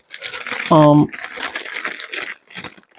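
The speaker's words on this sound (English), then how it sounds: "which I haven't even opened yet, so excuse the rustling" Plastic packaging from a fabric shop purchase crinkles and rustles in short scratchy bursts. A voice talks over most of it, and a brief tonal beep sounds near the start.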